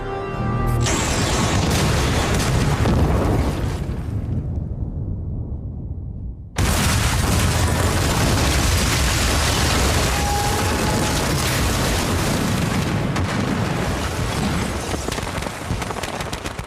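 Fireworks and explosions from the Doctor Who episode Eve of the Daleks, with loud, dense, continuous booming and rumbling blasts that cut out abruptly midway, then return just as heavy and sustained.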